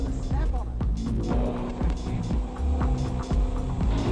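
A race car's engine on a track revs hard under acceleration, its droning harmonic tone steady and close throughout, with someone talking over it the whole time.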